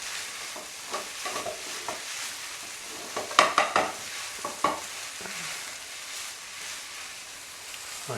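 Thai pineapple fried rice stir-frying in a pan: a continuous hissing sizzle with occasional louder scrapes and clinks of the utensil against the pan, close and steady.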